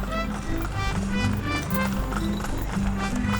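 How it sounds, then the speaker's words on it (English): Hooves of a horse pulling a tourist carriage clip-clop steadily along a street in Izamal, Yucatan, mixed with rolling wheels and a faint tonal hum throughout. "The horse-drawn carriage is a Yucatan tradition."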